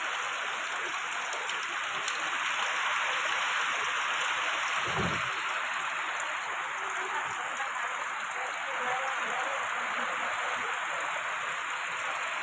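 Steady, dense rain hiss fills the whole stretch, a constant broadband wash with no breaks, loud and close.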